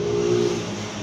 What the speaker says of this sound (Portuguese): deixa passar o barulho dessa moto